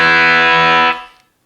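An electric guitar through a 1980s ProCo Rat II distortion pedal set at noon, one loud sustained fuzzy chord that rings steadily, then cuts off and fades out quickly.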